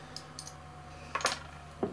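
A bottle of weissbeer brewed with honey, orange and spices is opened, a few light clicks and a short crisp hiss or pop of the cap coming off close by, with no talking.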